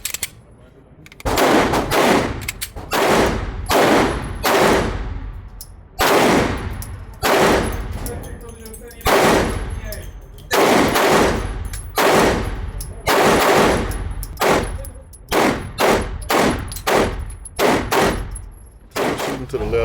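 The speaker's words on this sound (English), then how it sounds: "We'll shoot at the bottom target, and I'll try to get this sight dialed in." Rapid strings of gunshots from a ported CZ P-10 C pistol fired at a target 10 yards away, each shot loud and close, coming in quick bursts with short pauses between strings.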